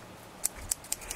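Scissors handled in a home kitchen while making cheesecake in Abruzzo, Italy: four quick, crisp metallic snips at an even pace, close and fairly quiet, with no talking.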